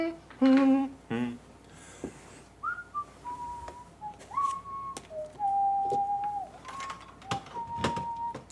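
Someone whistles a loose, wandering tune indoors, each note held and sliding between pitches, close and clear, with a few clicks and knocks between phrases.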